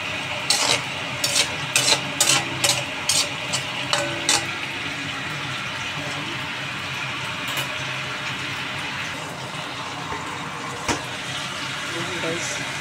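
Water is poured into a pan of shrimp, producing a steady hissing, rushing wash that runs throughout, with a few sharp clinks of utensils near the start.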